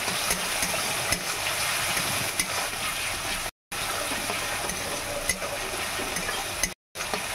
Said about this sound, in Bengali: আদা রসুন আর পেঁয়াজটা একটু হালকা লাল লাল হবে, খুব একটা বেশি লাল লাল করবো না।